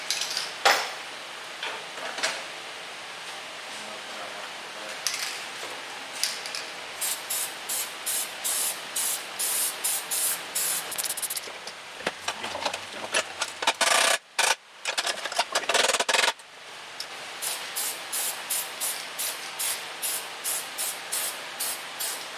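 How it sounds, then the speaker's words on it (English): Gasket adhesive spraying from an aerosol can during work on a big block Chevy engine: bursts of hissing spray, some long and some in quick rhythmic pulses, close by with brief pauses and no talking. "Goes on like spray paint."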